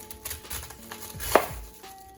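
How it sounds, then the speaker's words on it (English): Knife chopping cabbage on a cutting board, a series of light, close taps with one sharper, louder chop near the end. "And then we'll turn it again on the side here, and we'll simply chop."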